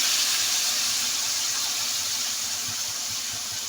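Water poured into a hot pan of chicken masala for palak chicken sends up a loud, steady hiss of sizzling steam that barely fades over a few seconds.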